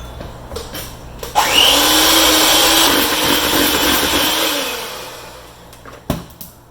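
An electric mixer runs continuously, whirring loud and steady as it creams a stick of softened room-temperature butter with two cups of sugar for a red velvet cake, with a brief clatter at the start and end.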